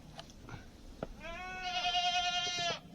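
A goat on a snowy February farm lets out one drawn-out, wavering bleat, fairly close and clear, after a few faint shuffles and knocks.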